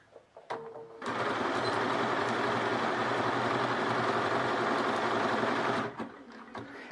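A Bernina 590 sewing machine stitches a letter R: a few soft clicks, then a loud, steady, fast mechanical whirr lasting about five seconds before stopping, followed by light handling clicks.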